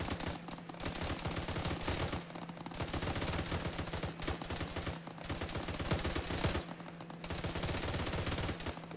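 Sustained automatic gunfire rattles in a ShackTac military video game, with rapid bursts broken by brief pauses over about nine seconds.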